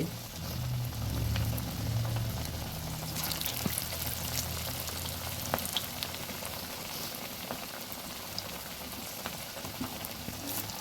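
Cabbage pakoras frying in oil give a steady, even crackle and bubbling that runs unbroken throughout, moderately loud, with no voices.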